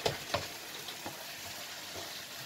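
A spoon stirs stuffed vine leaf filling seasoned with black pepper and salt, giving faint, soft scraping taps at irregular intervals over a quiet background.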